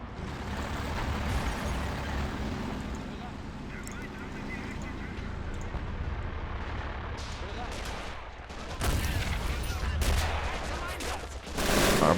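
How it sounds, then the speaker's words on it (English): Gunfire in the World War II strategy game Men of War: Assault Squad 2, with dense bursts of shots and explosions under a voice and a louder barrage near the end. "we got yet another gun firing"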